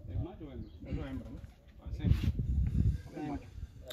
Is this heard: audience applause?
no